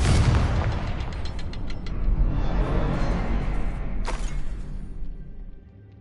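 A Confringo spell explodes in Hogwarts Legacy: a loud, close boom that rumbles and fades, followed by a second sharp blast a few seconds later.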